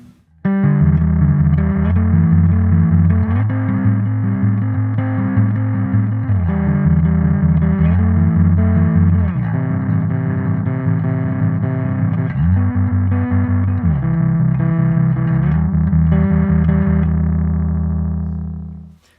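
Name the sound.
distorted bass guitar playing seventh chords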